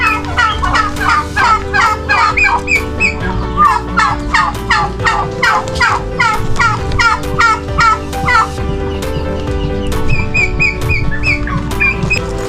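A turkey gobbles repeatedly and loudly among backyard chickens and chicks, its rapid rattling calls coming in quick bursts over a constant farmyard background, up close, with no voices.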